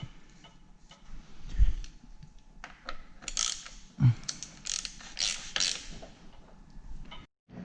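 Quiet mechanical clicks and ratcheting ticks come from a KTM EXC 300 front brake lever being pumped. They arrive in short irregular bursts with soft creaks and small knocks, close by and faint.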